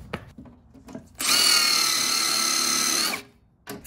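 A power drill drives a screw into a countersunk hole in wood, one loud steady whirring burst of about two seconds, with quieter handling clicks before and after.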